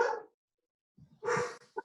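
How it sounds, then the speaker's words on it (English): A dog gives a few short, sharp barks in quick succession over an online meeting connection, after a brief silent pause. "get your dog in on the act"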